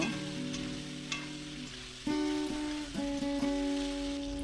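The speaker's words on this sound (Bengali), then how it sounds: "নুন হলুদ দিয়ে ফুলকপিটাকে লাল লাল করে ভেজে তুলব" Cauliflower pieces fried in oil with salt and turmeric give a steady close sizzle throughout, with faint crackles and a few stirring knocks over a sustained hum.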